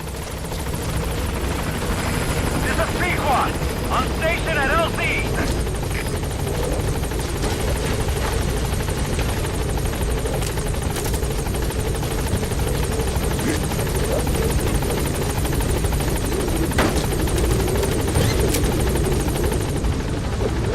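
Helicopter arriving at a landing zone in Metal Gear Solid V: The Phantom Pain, a loud, constant rotor roar and buzzing chop filling the whole stretch, with faint radio-style voices briefly heard beneath it.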